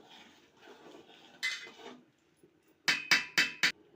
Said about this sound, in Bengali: এই যে মাংসটা ঢেলে দেওয়ার পরে এখন আবার একটু আমি নাড়িয়ে দেব।